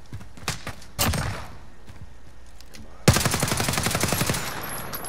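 Gunfire in a video game: scattered loud single shots, then a sustained rapid burst of automatic fire near the end, all close and punchy.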